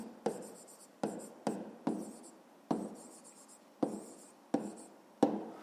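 Pen strokes on paper while working a fifth-grade maths exercise, heard as a series of eight short, close, soft scratching strokes in an otherwise quiet room.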